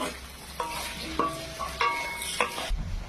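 Spice paste ingredients for yogurt chicken heat in hot oil in a kadai, with a soft sizzle under several ringing metal scrapes and clinks from stirring, close and moderate in level.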